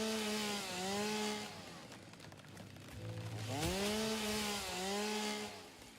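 A chainsaw cuts trees in the video game Satisfactory, its motor whining in rising and falling pitch sweeps, dipping briefly in the middle before revving up again, fairly close and alone.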